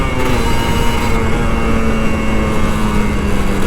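An older Kawasaki Ninja RR 150 motorcycle engine drones steadily and loudly up close, a continuous buzzing hum with rushing noise and no clear pauses.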